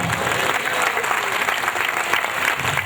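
Sustained, dense applause from a large indoor audience at a pastors' meeting in Vijayawada, loud and even throughout with no breaks.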